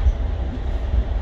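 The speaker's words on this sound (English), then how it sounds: "We are on the choo-choo train." Steady low rumble of a moving Amtrak passenger train carriage, a continuous rolling drone with no distinct clacks and no talking.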